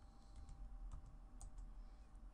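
Quiet, close clicks of computer keyboard keys as a PowerShell command is typed on a Windows Server 2012 machine, with irregular keystrokes and no talking.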